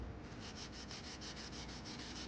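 A sanding stick rubbing back and forth on a small plastic model part of a GMC pickup, a faint, rhythmic scratchy swish repeating about five times a second, with no voices.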